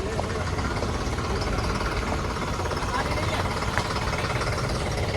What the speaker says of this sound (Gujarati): બાકી અહીંયા જો ટ્રેક્ટર આવી ગયું છે.